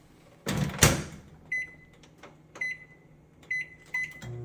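A door thumps shut, then a series of short electronic beeps sound at roughly one-second intervals, as from a microwave's keypad or timer.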